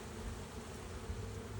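Honeybees swarm around an open hive as frames are moved during a beekeeping inspection, a dense, steady buzzing drone that fills the whole stretch at close range, with no talking.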